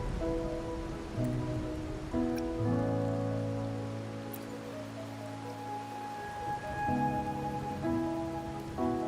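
Rain falls steadily in the game world of Wuthering Waves, a soft continuous patter sitting beneath sustained musical chords throughout.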